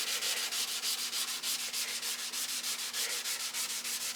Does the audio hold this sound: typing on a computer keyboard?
no